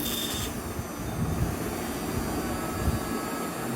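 A DIY BLDC motor rigged as a DC generator runs with a loud, steady, close whirring drone that holds unbroken throughout, with no talking.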